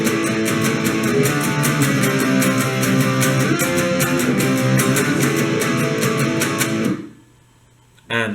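A distorted electric guitar chugs through the driving, rhythmic chorus riff of a song with steady drum hits, then cuts off abruptly near the end.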